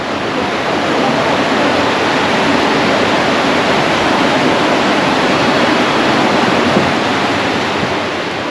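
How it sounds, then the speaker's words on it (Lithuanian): A river flowing through the small historic town of Kaysersberg in France makes a steady, broad rushing wash of water, constant and fairly close, without pauses. "Čia pro miestelį upė prateka"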